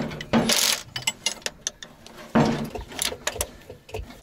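Bolts being screwed into a starter on a ZIL truck crane, with irregular metallic clicks, ratcheting taps and a couple of louder scraping clunks, close up.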